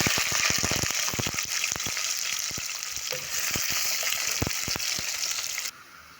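Chopped onions hit hot oil that is already fragrant with garam masala and sizzle loudly and steadily. Irregular clacks of a spoon stirring the pan come through close and clear, and the frying cuts off sharply at the end.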